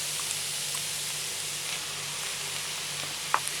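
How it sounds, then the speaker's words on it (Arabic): Vegetables with onion and carrots sauté in a pan, giving a steady close-up sizzle and hiss with a few faint stirring clicks. "غادي نشحر الخضر ديالي تنحس بها انها ولات طيبه"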